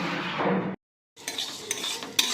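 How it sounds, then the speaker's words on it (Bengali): Fennel seeds, black pepper and coriander being dry-roasted and stirred in a wok: close scraping and rattling of spices against metal, broken by a brief silent gap, then more clinking stirs. "এটা কিন্তু আমি শুকনো কড়াই ভালো করে নেড়ে নিচ্ছি"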